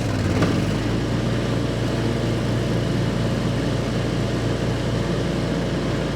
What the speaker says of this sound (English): Now what happens when we engage the blades and put a load under it?